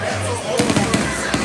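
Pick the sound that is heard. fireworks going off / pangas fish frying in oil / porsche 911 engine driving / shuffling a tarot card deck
fireworks going off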